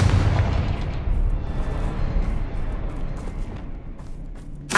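A Confringo fire spell explodes in Hogwarts Legacy, a loud, close blast that rumbles and roars for several seconds before dying away, with a fresh burst at the very end.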